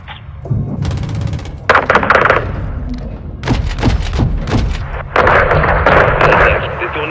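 Loud gunfire bursts and heavy explosive thuds from a Call of Duty: Modern Warfare 2 campaign battle, repeated blasts and shots in dense succession with radio-style voices talking over the combat.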